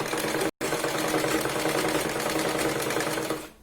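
A sewing machine stitches fabric for a big-size Punjabi top, running steadily and fairly loud, with a brief stop near the start before the motor hums on and fades out at the end.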